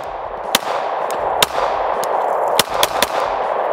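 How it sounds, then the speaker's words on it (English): A Glock 22 pistol in .40 S&W fires about six shots at an uneven pace, each a sharp loud crack over a steady background rush, with no talking. "Let's take a couple of shots."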